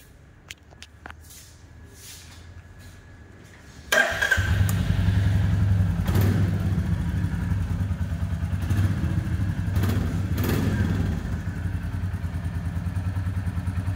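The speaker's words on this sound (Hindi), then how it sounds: "ये थी बाइक की एग्जॉस्ट।" A 2025 Royal Enfield Classic 350 motorcycle starts with a thump and settles into a deep, loud, steady thumping exhaust idle, with a couple of throttle blips rising over the low rumble.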